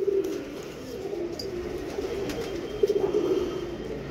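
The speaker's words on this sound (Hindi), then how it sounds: "ये बहुत छोटे जिस्म की कबूतरियाँ हैं" Small, light-bodied female pigeons coo softly and repeatedly at close range, low throaty calls over a faint background hum.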